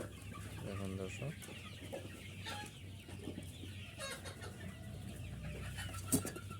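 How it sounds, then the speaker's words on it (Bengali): Sonali super hybrid chickens cluck repeatedly in a farm shed in Mymensingh, with a busy overlapping flock chatter, a steady low hum underneath and a brief louder squawk near the end. "এই যে আমরা একটা মুরগি নিছি"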